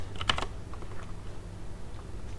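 Typing on a computer keyboard, with a quick burst of close keystrokes near the start and fainter, scattered taps afterward over a low steady room hum.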